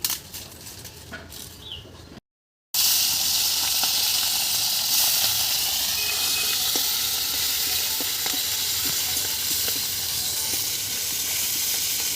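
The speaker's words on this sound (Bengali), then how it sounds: "কড়াই গরম হয়ে গেছে, তেল দেবো সরষের তেল।" A brief quieter stretch and a short gap, then loud continuous sizzling and hissing as mustard oil heats in a hot wok, steady and close.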